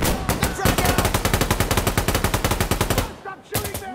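Rapid bursts of M-16 A4 rifle fire from a video game rattle loud and close, a fast steady volley of shots running for about three seconds, then a short pause and another brief burst.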